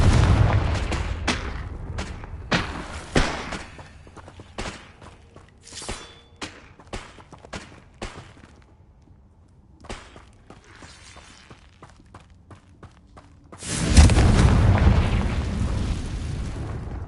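Confringo fire-spell blasts in the video game Hogwarts Legacy, a rapid series of sharp booming impacts in the first half, a quieter stretch, then a louder sustained burst of explosive rumble near the end.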